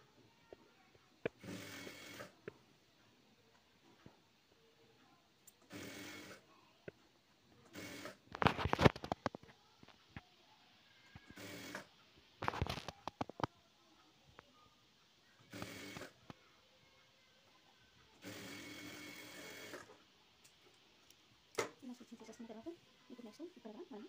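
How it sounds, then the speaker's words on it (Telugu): A sewing machine stitching a doormat made from an old nighty runs in short, separate bursts with quiet pauses between them, close by and fairly soft, with a voice speaking between the runs. "స్టిచ్చింగ్ చేసేసుకోండి."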